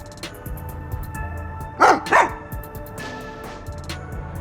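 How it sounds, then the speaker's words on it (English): A dog in the video game Master Detective Archives Rain Code gives two quick, loud barks close up over a steady ambient game backdrop. "The dog has something in her mouth."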